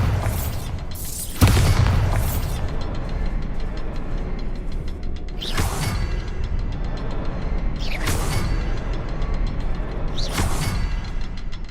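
Bombarda spell explosions in the video game Hogwarts Legacy: several heavy booming blasts spaced a few seconds apart, each a sudden loud burst over a constant rumbling background.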